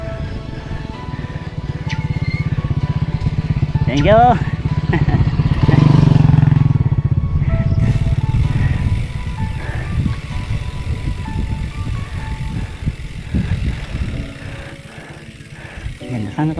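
A motorcycle engine runs steadily on a dirt trail, loud and close, with a rise in revving midway and a clattering rumble underneath, while people talk over it.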